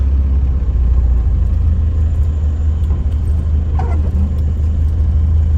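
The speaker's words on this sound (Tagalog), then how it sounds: "Punong-puno ng sasakyan guys hanggang doon sa dulo" Heavy traffic crawls along a crowded road beside a busy market, producing a loud, continuous low rumble of many vehicle engines close by, with no letup.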